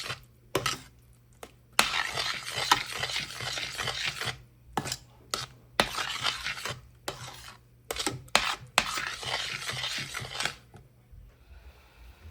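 A spoon scrapes and stirs ghee into wheat dough in a pot in a home kitchen, in irregular bursts of close, gritty scraping with short pauses between strokes and no talking.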